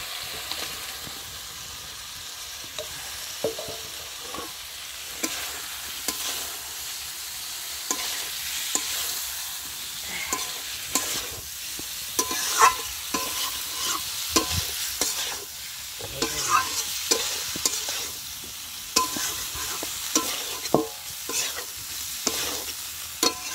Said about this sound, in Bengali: মশলাগুলোর মধ্যে এখন আলু ফুলকপিটা কষিয়ে নেব।